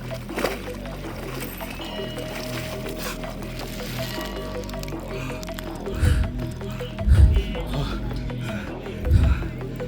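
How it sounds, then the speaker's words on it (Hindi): Heavy splashing and sloshing as a person wades into icy lake water at Hemkund Sahib, with several loud surges late on over a constant background of moving water and faint voices. "मैं सोच रहा हूँ मैं डायरेक्ट पानी के अंदर जाऊँ और जल्दी से बाहर आ जाऊँ"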